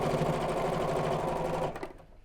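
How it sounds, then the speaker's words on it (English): A sewing machine stitches a zipped Biscornu fabric pouch in a steady, close and loud whirring run that stops abruptly near the end. "I like to sew from this side that I've just sewn"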